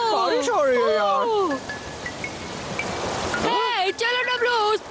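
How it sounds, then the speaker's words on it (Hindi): Heavy rain in a cartoon makes a dense, steady hiss that is heard alone for a couple of seconds, between stretches of animated characters talking. "बहुत तेज बारिश हो रही है यार"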